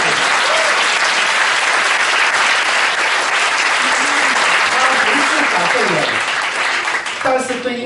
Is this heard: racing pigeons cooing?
no